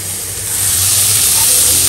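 Carrot, cauliflower and green chilli shallow frying in a pan for veg kofta curry, a loud, steady hiss that swells slightly and then holds even.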